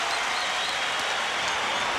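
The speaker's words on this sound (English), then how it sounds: "Listen to the roar from this home crowd." A home basketball crowd roars and cheers in a packed arena as a star player returns to the game, a loud, dense, continuous wall of noise with no let-up.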